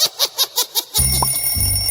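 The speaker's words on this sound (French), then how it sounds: "Oh, le réveil sonne" An alarm clock goes off with about five quick, evenly spaced bright rings, then gives way to a steady electronic tone over a low buzzing hum.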